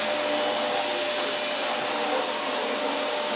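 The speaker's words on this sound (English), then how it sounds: "Mommy vacuum." A household vacuum cleaner runs close by with a steady, loud whining hum that holds unchanged throughout, with no talking over it.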